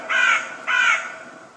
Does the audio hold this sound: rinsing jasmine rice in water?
no